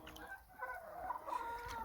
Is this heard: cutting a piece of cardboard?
no